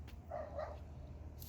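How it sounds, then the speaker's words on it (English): Two dogs, one of them a neighbor's, scuffle in a garden, giving a couple of short, faint barks or yips at a distance over a low background hum. "My dog is not playing nice with the neighbor's dog."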